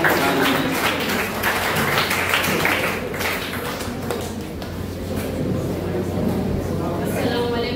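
At a school Independence Day celebration, a crowd applauds schoolchildren performers, a sustained wash of clapping that carries on at steady volume with voices mixed in.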